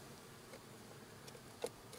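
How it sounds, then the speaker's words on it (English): A low, steady drone of honeybees buzzing inside an open hive during inspection, faint and continuous, with a brief soft tap near the end. "the buzzing going on in the center of this hive"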